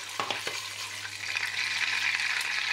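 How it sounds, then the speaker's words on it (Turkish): Butter sizzling and frying in a pan with a teaspoon of red pepper powder, a steady crackling hiss broken by a few sharp pops and stirring clicks, close and clear with no voices. "Yaklaşık yarım yemek kaşık tereyağını kızdırıyorum, eritiyorum. Sonrasında bir çay kaşık kırmızı toz biber ekleyip yakıyorum."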